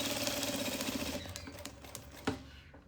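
A sewing machine runs a rapid, steady stitching burst along the seam of a zippered double toiletry bag, then slows and stops with a few scattered clicks and a sharp tap near the end.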